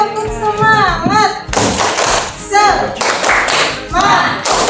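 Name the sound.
children doing rhythmic 'tepuk semangat' clapping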